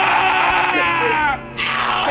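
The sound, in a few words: person screaming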